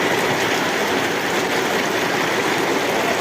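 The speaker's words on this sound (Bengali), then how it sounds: "দেখেন পানির ঢেউ দেখেন কীভাবে পানি পড়তেছে।" A dense, even rush of water pouring down, loud and unbroken, like heavy runoff or a downpour nearby.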